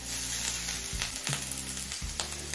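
Grated ginger, carrot and mixed vegetables sizzle in a hot pan, producing a steady, close frying hiss broken by a few stirring scrapes, with no voices.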